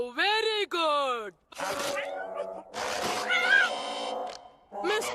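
Mr. Cat, the cartoon cat from Kid vs Kat, lets out a few loud, drawn-out, wavering meows up close, followed by busier cartoon sounds and voices.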